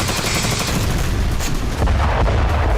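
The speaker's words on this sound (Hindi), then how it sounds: "रूस के केमेरोवो इलाके में यह धमाका बिजली सबस्टेशन पर हुआ।" An explosion at an electrical substation in Russia's Kemerovo region: a loud, sustained rumble of heavy blasts and crackling bangs, dense and continuous, with a deeper boom swelling midway.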